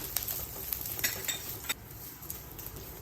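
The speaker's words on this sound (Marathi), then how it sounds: "नाही तर कढीपत्ता पण ह्याच्यातच घालूया। हे सगळं भाजून घेऊया।" Curry leaves and garlic cloves roast in a pan for chutney, light crackling and a few clinks of a utensil stirring, fairly faint and close.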